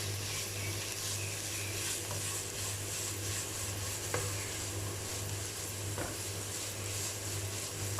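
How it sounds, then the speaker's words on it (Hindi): Vegetables sautéing with spices and green chillies in a pan for a lasagna filling: a steady, low-level sizzle with stirring, continuous and fairly quiet, with a couple of faint scrapes. "जस्ट 1 मिनट तक हम लोग इसे भूनेंगे स्पाइसेस के साथ और सब्ज़ मिर्चों के साथ"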